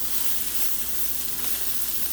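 Brussels sprouts sizzle and caramelize in a hot pan with a little garlic, a steady close frying hiss running unbroken throughout with no voices.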